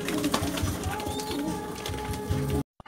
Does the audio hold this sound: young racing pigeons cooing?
yes